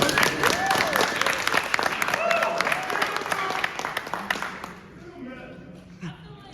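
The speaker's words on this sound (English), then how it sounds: "Y'all better clap for her." A crowd applauds loudly, with steady clapping and a few cheers. It fades toward the end as a voice speaks faintly.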